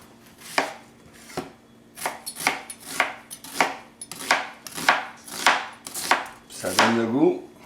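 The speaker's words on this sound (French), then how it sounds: "Et ça va être coupé grossièrement." A knife chops food coarsely on a board in about a dozen sharp, evenly spaced thuds, with a brief rising squeak at the end.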